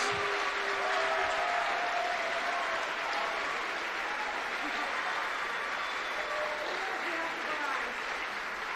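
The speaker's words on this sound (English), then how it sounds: "Give them a round of applause." An audience applauds at the Formula SAE electric vehicle awards ceremony in Michigan, a sustained, broad wash of clapping that holds steady and loud, with a few faint tones and voices mixed in.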